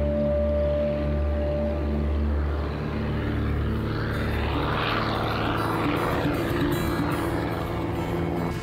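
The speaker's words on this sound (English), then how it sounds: "Up in a spotter plane, another warden watches for spotlighters." A game warden's spotter plane passes overhead during a night search for spotlighters, its propeller engine droning steadily and swelling toward the middle over a low, constant hum.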